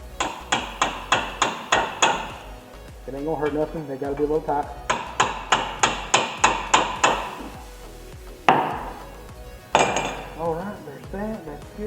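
A hammer taps on front brake parts of a 2013 Chevy Equinox during a brake pad replacement, sharp metallic pings in rapid bursts of six or seven strikes, with someone talking between the bursts.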